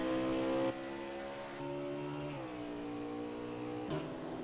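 Race car engines in a racing video game at Watkins Glen, a sustained revving drone that shifts pitch with throttle and gear changes, steady and moderately loud with no talk.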